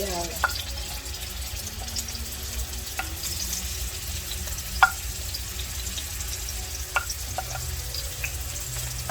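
Garlic frying in hot oil in a pan for fried rice, a continuous soft sizzle broken by a few sharp clinks of a utensil, close by and without talk.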